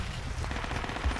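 Rapid gunfire in an online shooter game, a dense burst of close shots packed into a single second.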